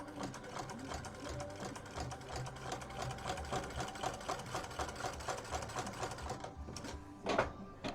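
A sewing machine top stitching a fabric section runs in a fast, steady whirring chatter for several seconds, then stops, leaving a brief clack and shuffle at the end.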